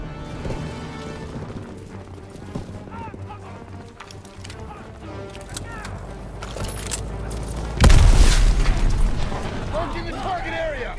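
A grenade blows up during a D-Day beach assault in Call of Duty WWII, landing as a sudden loud boom with a heavy low rumble over ongoing battle noise, gunfire and shouted voices.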